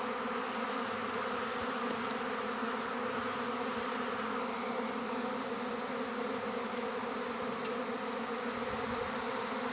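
A swarm of bees in a forest gives off a dense, steady buzzing drone that holds without a break from start to finish, close and even, with no voices.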